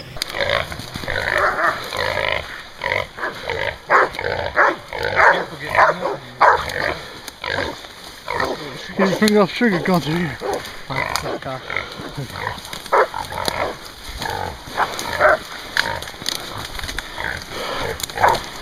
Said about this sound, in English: There's a lot of growling, there's a lot of barking.